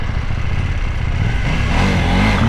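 A KTM 790 Duke motorcycle accelerates on the road, its engine note loud and close as a continuous rising growl that thickens toward the end.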